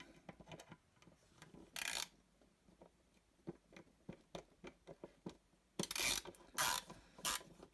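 Screwdriver loosening screws on a vintage coffee grinder during disassembly, giving a run of small, close ratchet-like clicks and ticks at an uneven pace, with a few louder scraping bursts of metal on metal.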